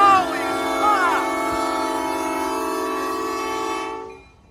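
A train horn blares loud and close at a railway crossing, a sustained chord holding for several seconds before cutting off, with a voice briefly exclaiming over it.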